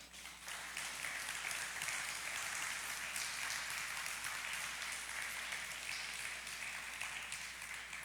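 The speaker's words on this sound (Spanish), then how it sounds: "Dale un aplauso al Rey." A church congregation applauds together in a sustained, even wash of clapping that fills the hall, steady and somewhat distant, with no voices standing out.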